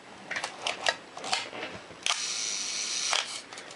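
Camera shutter curtain firing inside an opened film camera, a sharp mechanical snap followed by about a second of steady whirring run, preceded by several lighter clicks and handling taps, close and alone.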